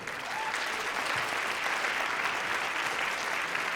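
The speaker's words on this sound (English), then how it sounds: "Our trumpet section, let's give them a round of applause again." Audience applause for the trumpet section of a university jazz lab band concert at Purdue, a soft, even wash of distant clapping that holds steady throughout.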